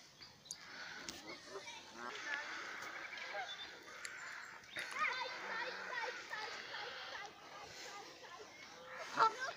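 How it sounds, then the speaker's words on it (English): Canada geese honk repeatedly on a pond at a local nature reserve, the calls scattered across the scene at moderate distance, with a brief louder honk near the end and a person talking over much of it. "Canada geese"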